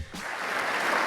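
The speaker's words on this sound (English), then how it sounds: "Why is there applause? That was very weird." Brief burst of audience applause during a stock market investing podcast, a dense wash of clapping that swells quickly and holds steady at moderate loudness for about a second, with no talk over it.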